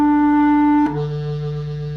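A clarinet sustains a note in its low register, played with a closed, unopened embouchure, then drops abruptly to a lower, duller tone; close and alone.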